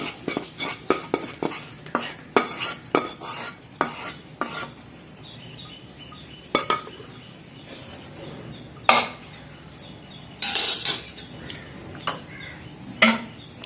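A spoon stirs curd tomato chutney in a metal pot, with irregular close scrapes and sharp clinks against the sides over a faint background sizzle, and no voices.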